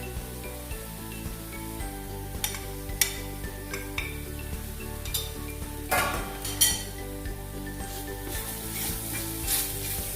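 Ground black pepper and chili powder sizzle in oil in a pan, a continuous hiss with occasional spoon clinks and stirring sounds against the pot, over quiet background music.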